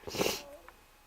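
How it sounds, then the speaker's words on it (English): A person with a lingering cough lets out one harsh, breathy cough up close, followed by a faint rasping breath. "Sorry guys, I'm still coughing."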